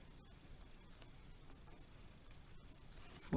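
Pen or marker scratching steadily while a math expression is written out, a close, quiet continuous scribbling with small taps, ending in a short knock.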